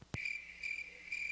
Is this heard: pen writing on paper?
no